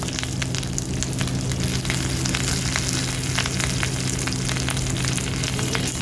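Paneer paturi parcels, tied in leaves, frying in hot oil with a loud, dense, unbroken sizzle and crackle, steady throughout and heard alone.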